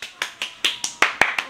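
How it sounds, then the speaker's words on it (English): Sparse hand claps, about eight sharp slaps in an even rhythm at moderate volume, sounding like one or two people clapping close by in a small room. "So let's give a round of applause"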